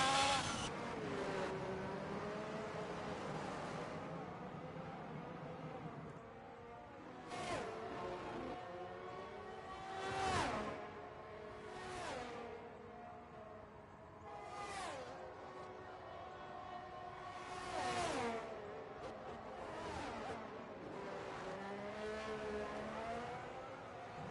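Onboard engine of an Alfa Romeo Formula 1 car in an F1 video game at Miami wails continuously, its pitch climbing through the gears with sharp drops at each shift and brief bursts as it brakes and accelerates.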